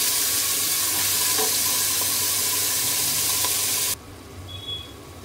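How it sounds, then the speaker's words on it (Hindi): Minced meat with potato and peas fries in a pan, giving a steady loud sizzle throughout that drops sharply to a quieter hiss near the end, with no talking. "उसको भूनेंगे अच्छी तरह से, इसका कलर चेंज होने तक"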